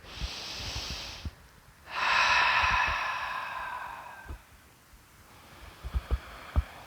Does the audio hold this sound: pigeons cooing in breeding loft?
no